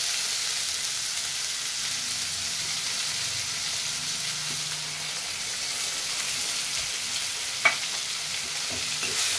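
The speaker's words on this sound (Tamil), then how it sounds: "அதையும் போட்டு ஏற்கனவே நம்ம வேக வச்சதுனால நம்ம சீக்கிரம் அதை வந்து வதக்கி எடுத்துடலாம்." Boiled banana flower sautéing in a pan, a steady soft sizzle and hiss throughout with a single brief clink of a utensil near the end.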